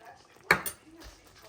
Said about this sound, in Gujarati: આ પેસ્ટ આપણે એડ કરી લેવાની છે અને પાછું બધું મિક્સ કરી લેવાનું છે